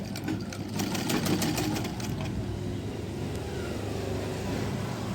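A sewing machine stitches a small pocket onto a baby suit, a continuous close whirring hum with light rapid needle ticking that stays level throughout, no talking.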